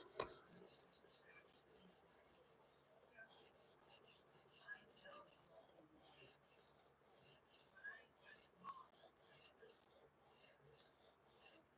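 A Böhler K390 steel Spyderco knife blade from Seki City, Japan, drawn across a sharpening stone in steady, soft rasping strokes, quiet and close, repeating in regular rhythm with occasional faint clicks.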